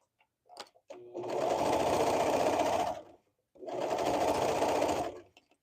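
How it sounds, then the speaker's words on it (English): Sewing machine stitching a hoodie panel together, running in two steady bursts of about two and one and a half seconds each, with a short pause between them and faint handling noises before the first run. "gonna sew it on there."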